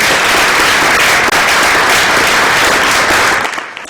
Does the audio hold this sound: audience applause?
yes